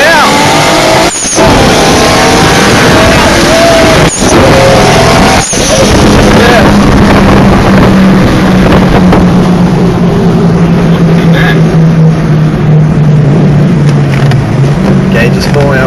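A race car's engine roars loud and continuous as it winds up and accelerates hard on a run at Brisbane Powerplay, pitch climbing through gear changes, recorded close with wind buffeting and a voice speaking over it.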